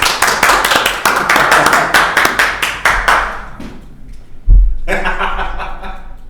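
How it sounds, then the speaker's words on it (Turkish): A studio audience claps and laughs for a few seconds after a developer's closing remarks, dense sharp claps fading out before a thump and a voice starting up again. "Alkışlıyoruz."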